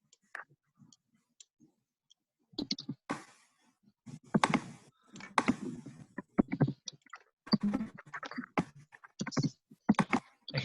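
Students in a classroom punching numbers into calculators, scattered quiet clicks and taps in irregular bursts, faint and close, with soft rustling between them.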